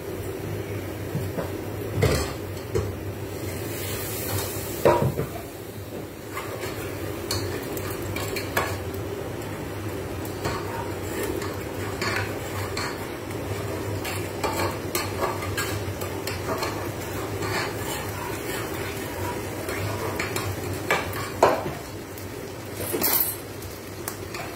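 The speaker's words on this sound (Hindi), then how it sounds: "इससे मसाले को मिक्स कर दूंगा।" A spoon stirs masala and a little soup in a cooking pot, with steady scraping and light sizzling throughout and occasional sharp metallic clinks against the pot, close and continuous with no talk.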